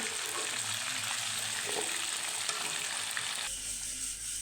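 Catfish frying in hot oil in a pan, a steady close hiss and sizzle throughout with an occasional faint stir, no talk.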